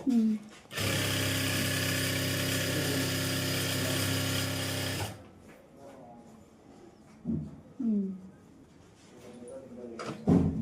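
A Jack F5 sewing machine runs in one steady, loud, continuous whirring burst of stitching lasting about four seconds, then stops abruptly, followed by a person talking with a few small clicks and handling sounds.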